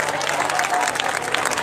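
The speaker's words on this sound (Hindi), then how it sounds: "जोर ताली बजे प्रभु को प्रशंसा करते" Congregation clapping in praise during a Hindi-language church service, a brief burst of steady, fairly close applause lasting under two seconds.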